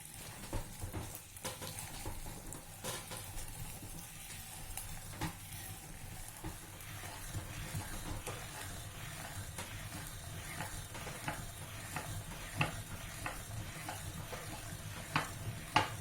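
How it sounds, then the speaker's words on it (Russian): Whole sprouted wheat grain being cranked through a manual meat grinder for oatmeal cookies, a steady continuous grinding and crunching rasp with small clicks throughout, close and moderately loud, with no talking. "Пшеницу, кстати, довольно-таки нелегко прокрутить через мясорубку."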